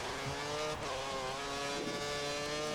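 Formula One car from the F1 2013 racing game at the Spanish Grand Prix, engine holding a steady high whine with shifting harmonics as the tires run over marbles, continuous and loud with no talk.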